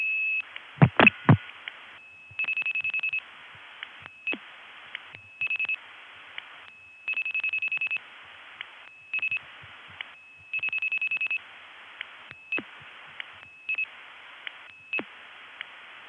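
Telephone line tones after dialing a number in the 914 area of New York in 1975: repeated rhythmic bursts of a steady ringing tone on a phone line, with clicks and brief pauses between rings, clear and alone.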